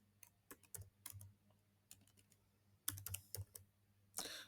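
Typing on a computer keyboard at a desk, heard as irregular bursts of crisp key clicks with short pauses, fairly close and quiet, with no talking.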